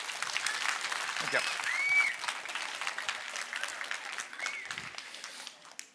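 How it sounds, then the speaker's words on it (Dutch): A children's audience applauding a professor at a university event, a dense burst of clapping that fades over several seconds, with a voice speaking briefly over it. "Dus mag ik een heel groot applaus voor onze professor."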